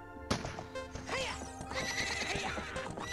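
A horse in the video game Ocarina of Time gives a loud, high whinny during a horse race, with rhythmic clip-clop hoofbeats running under it and a second neigh rising near the end.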